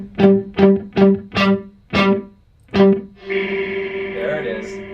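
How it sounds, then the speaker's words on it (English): A Boss Nextone guitar amplifier's spring reverb answers a series of sharp plucked guitar notes with splashy, boingy tails, then a final note that swells into a wobbling, washy reverb drip, loud and close. "the classic sort of like spring reverb sound, you know, the kind of boinging of the spring"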